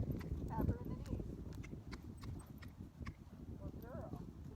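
A horse steps backward when pulled back on the reins. Its hooves clip-clop softly and irregularly on the ground, and quiet talking carries on over the steps.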